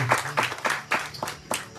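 An audience claps for children at a temple satsang in a brief, steady, rhythmic burst of close-up handclaps.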